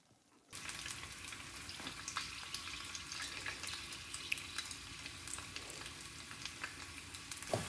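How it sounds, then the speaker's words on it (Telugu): Eggs frying in oil in a pan for a dhaba-style egg curry, a steady close sizzle with scattered crackles and occasional stirring scrapes, no voices. "ఎగ్స్ ఫ్రై అయిపోయాయి."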